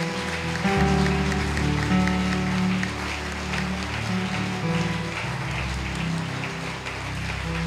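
A church congregation applauding together, a dense sustained wash of clapping mixed with music and voices, loud and continuous throughout.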